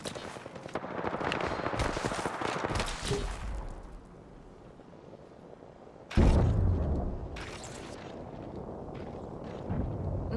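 Another squad fires on the player in a battle royale video game, heavy bursts of gunshots early on, a quieter lull, then a loud close blast and more shooting.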